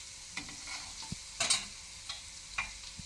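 Spatula stirring capsicum, carrot, potato and other vegetables in a frying pan, soft scrapes and clinks over a faint sizzle, a few distinct strokes with no talk.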